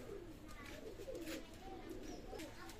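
Teddy pigeons kept for sale coo in soft, low, repeated phrases, set against steady background noise with a person talking nearby.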